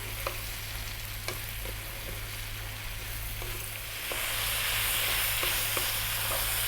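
Belly pork and cabbage frying and sizzling in a pan, with a steady close sizzle, a low hum underneath and scattered clicks and scrapes of stirring; the sizzle grows louder and more hissing toward the end.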